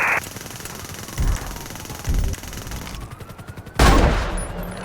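Bursts of gunfire in GTA 5 during a terrorist-attack scenario near the Los Angeles Airport runway, several loud volleys separated by short gaps with a sustained roar at the end, no voices.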